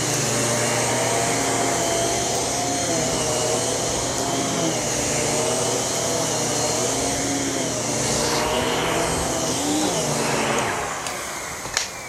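Vacuum cleaner on its smooth setting, a model billed as better than a Dyson, running steadily at close range as a continuous whine and broadband roar. The pitch shifts somewhat near the end, then the sound drops away at the close.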